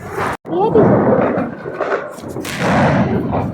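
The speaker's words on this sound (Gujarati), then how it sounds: "હવે આપણે આ ચકલી બોમ્બ ફોડવા દઈએ બહાર કેવો ફૂટે ટ્રાય કરીએ" A chakli bomb firecracker bursts outdoors during Diwali, with sharp loud bangs and crackles, one abrupt blast near the start and more crackling later. People talk nearby.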